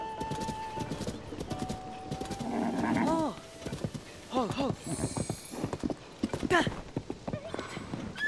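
A horse in Zelda: Tears of the Kingdom gallops with rhythmic clip-clopping hooves, a whinny partway through, and game sounds layered around it.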